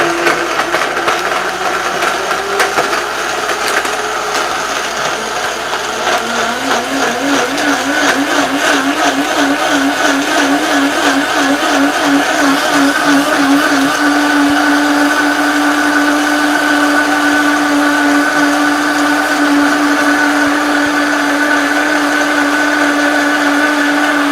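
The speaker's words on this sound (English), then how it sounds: "you want to mix it until the dates are completely smooth in here" A blender runs continuously for about 24 seconds, blending dates until smooth for a recipe, its motor pitch shifting and settling into a steady loud whir partway through, with no talk.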